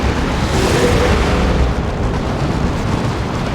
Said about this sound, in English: There's a grenade.